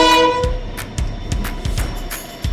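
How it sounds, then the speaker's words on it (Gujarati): A train passes nearby. It opens with a loud horn toot, then its wheels clack over the rail joints in a rapid, regular rhythm. "ટ્રેન"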